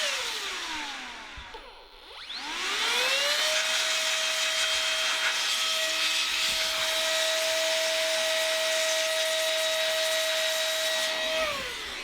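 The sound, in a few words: small blower blowing dust out of a router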